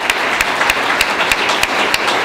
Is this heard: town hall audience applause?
yes